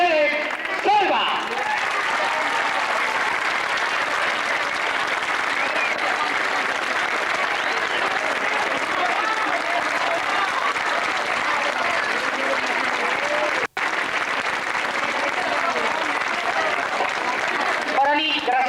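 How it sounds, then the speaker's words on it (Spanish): Long, unbroken applause from a large audience at a tribute show, with loud, dense clapping at a steady level and crowd voices mixed in, broken once by a brief dropout near the end. "Señoras y señores, con un gran aplauso,"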